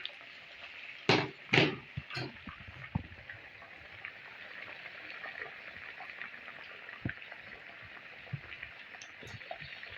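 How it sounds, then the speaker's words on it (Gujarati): Urad dal vadas (black gram lentil fritters) frying on low heat: gentle oil bubbling and sizzling at low intensity, with a few sharp spattering bursts near the start, then a soft continuous fry. "થોડું ધીમા તાપે તળી લઈશું"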